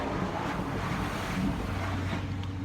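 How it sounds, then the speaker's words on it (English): A vehicle passes outside a house, heard as a soft, steady, low rushing rumble through the whole moment, with no voices over it. "Sorry, somebody driving past."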